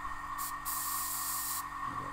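An airbrush sprays paint in light coats onto model wheels and tyres, a steady close hiss with one short burst, a brief pause, then a longer continuous spray that cuts off near the end.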